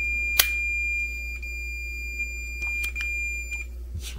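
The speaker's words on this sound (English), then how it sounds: "This beeping stopping is me coming off of the connectors here" A continuity meter held to pellet stove connectors gives a sustained high electronic beep that stops and restarts in brief bursts, with a few sharp clicks and a low steady hum beneath it, in a quiet room.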